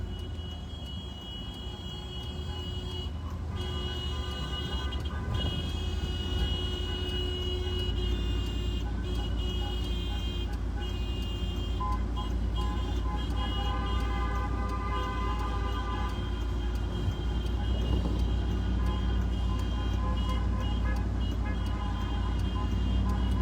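Car driving slowly around the arrivals area at Ottawa International Airport, a steady low engine and road rumble continuing throughout, with traffic noise and occasional distant horn-like tones in the background.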